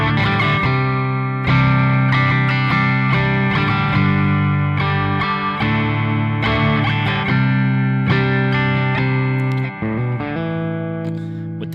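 Temu Strat-style electric guitar on the neck pickup with a clean tone, slightly out of tune, playing a series of plucked notes and chords with ringing sustain, loud and alone.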